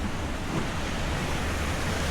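Small waterfall beneath a bridge in New Zealand, a steady broadband rush of falling water that holds evenly throughout, close and fairly loud with no voices.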